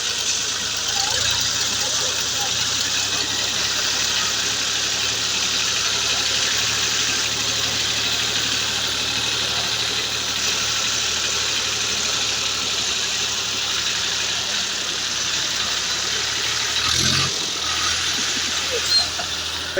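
A tractor engine runs steadily with a low idling-like hum and vibration throughout, close by and fairly constant, with a brief louder bump near the end; no speech is heard.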